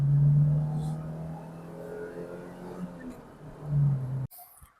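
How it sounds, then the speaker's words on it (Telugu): Stock Mitsubishi Lancer accelerating hard from first gear, a close engine drone rising and falling through the revs, with a surge near the end before cutting off abruptly. "నేను ఫస్ట్ గేర్ నుంచి మీకు డ్రాగ్ చేసి చూపిస్తాను"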